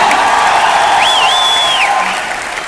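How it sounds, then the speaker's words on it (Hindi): Audience applause and cheering fill the room continuously and loudly, with a whistle-like whoop rising above the clapping partway through, at an event celebrating an income milestone. "एक बार जोरदार तालियां"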